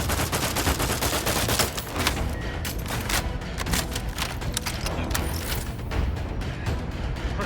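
Dense, loud gunfire rattles without pause through a firefight in The Outer Worlds 2, with rapid overlapping shots and mechanical clanks filling the whole stretch and no talk.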